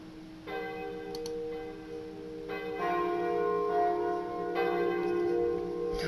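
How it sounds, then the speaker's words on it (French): Church bells ringing a Sunday peal, every bell except the largest, overlapping tones struck in succession and building into a layered ringing that swells louder, heard from a moderate distance. "c'est toutes les cloches sauf la plus grosse"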